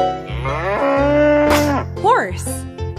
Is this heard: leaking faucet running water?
no